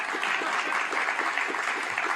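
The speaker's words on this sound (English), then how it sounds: "You should applaud at that one." An audience at a county government's State of the County address claps steadily, a dense, even wash of applause that holds at full strength throughout with no voice on top.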